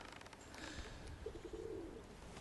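A pair of pigeons outdoors gives a faint, distant coo in a short burst of soft low notes midway through, over quiet open-air background hiss.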